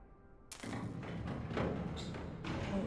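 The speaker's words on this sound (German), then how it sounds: "Fahrstuhl hört sich nicht so gesund an." Ominous elevator in the video game Inside, a heavy mechanical rumble starting abruptly with a deep thud, then continuing as a loud, dense grinding drone with repeated dull knocks and creaks, alone with no talk.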